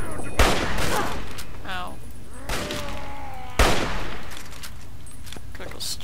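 Gunfire in Fallout 3 fills a dense, continuous combat barrage with several sharp shot impacts standing out, while a voice briefly cries out over the noise.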